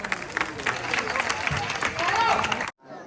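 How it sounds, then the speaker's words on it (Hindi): A crowd at a nighttime public gathering bursts into applause and cheering, a loud wash of clapping mixed with voices and babble that ends abruptly near the close. "जोरदार तालियां।"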